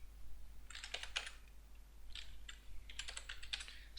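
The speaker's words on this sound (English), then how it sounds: "you can type in anything" Search terms typed on a computer keyboard, soft, close key taps in two short bursts separated by a pause, over a faint low hum.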